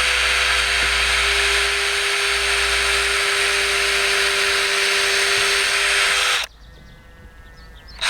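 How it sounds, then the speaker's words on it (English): A power drill with a 3mm bit bores a pilot hole into Kedel plastic wood, giving a loud, steady whine that runs unbroken for about six seconds before cutting off abruptly into near quiet. "drill into a piece of Kedel's plastic wood. I'm using a 3mm drill."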